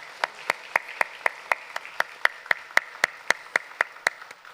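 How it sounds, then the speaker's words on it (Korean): A church congregation claps in unison, a steady rhythmic beat of about four claps a second, sharp and crisp at a moderate distance, and nobody speaks. "우리도 박수로 하나님께 찬양으로 영광 올려드리겠습니다"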